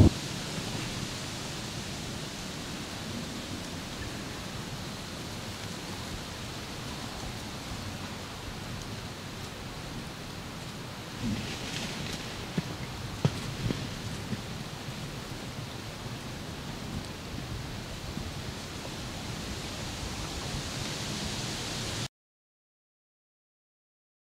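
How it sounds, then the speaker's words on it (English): Steady rain falls outdoors on a Sunday morning in October, a soft even hiss lasting over twenty seconds with a few faint patters and knocks partway through, no voices. "it's been raining out all morning"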